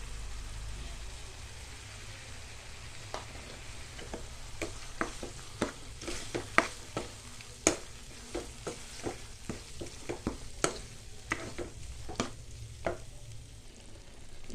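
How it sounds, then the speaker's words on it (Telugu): Spice paste being stirred into ivy gourd curry in a pan, with a soft steady sizzle and repeated sharp scraping clicks of a spoon against the pan, close and moderately quiet. "పేస్ట్ వేసి ఇప్పుడు బాగా కలుపుకోవాలి"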